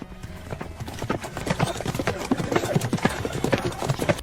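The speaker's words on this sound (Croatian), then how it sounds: "Kada je sjeo na konja" Steady clip-clop of horse hooves, close and rhythmic, growing slightly louder, with a voice speaking over it.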